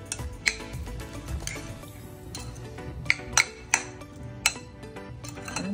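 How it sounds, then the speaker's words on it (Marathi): Corn kernels and chopped vegetables stirred together in a bowl for a corn recipe, with a spoon making sharp clinks and taps against the dish, scattered irregularly amid soft rustling, near and moderately loud with no talk. "तर आता ह्याला आपण चांगल्यापैकी एकजीव करणार आहोत। सगळे पूर्ण जे व्हेजिटेबल्स आहेत ते एकमेकांबरोबर मिक्स झाले पाहिजे।"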